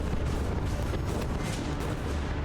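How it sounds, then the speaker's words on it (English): Austrian cannon pounding the French line in a hot summer battle along the Fontanone, a dense, continuous roar of artillery fire with rolling booms layered over one another at steady loudness. "More and more Austrian cannon are pulled up and begin to pulverize the French line."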